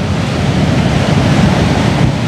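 Ocean surf rolls continuously onto a beach in a broad, steady wash of noise, with wind buffeting the microphone and no voices.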